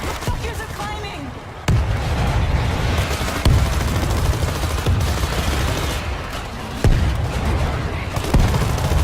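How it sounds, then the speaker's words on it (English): A grenade is thrown and goes off in the zombie shooter World War Z, amid a dense, continuous din of loud gunfire and explosions, with several sharp heavy blasts punching through the battle noise. "Throwing a grenade"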